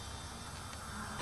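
Bees buzz around an old 1953 International dozer outdoors, a close, continuous hum with slight swells as insects move near, moderately quiet and without speech.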